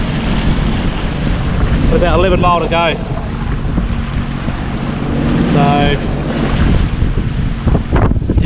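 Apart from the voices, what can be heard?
Sea-Doo Fish Pro jet ski riding rough, windy sea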